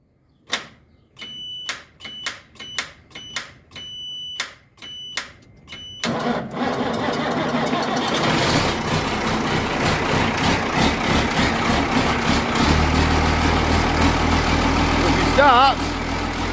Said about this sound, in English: let's see if she'll even start